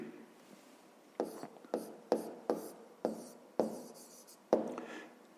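Pencil or pen writing by hand on paper while solving a school math exercise about the price of pencils: a quiet pause, then a series of short scratching strokes and taps, close and soft, no voice.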